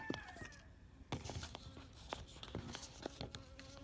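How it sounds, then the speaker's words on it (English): A honeybee buzzes close by, its drone rising and fading as it moves around, with soft taps and rustles in between. "One of my bees is paying me a visit here."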